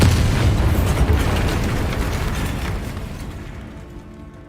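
A loud, deep explosion from the Bombarda spell in Hogwarts Legacy, a heavy booming blast that rumbles and slowly fades over several seconds.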